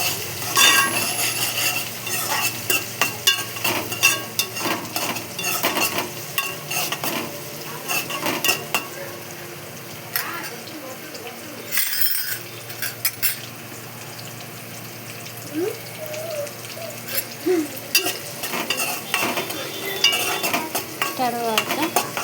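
Eggs frying until golden in a pan, stirred often, with steady metal scraping and clinks of utensils over a constant sizzle throughout.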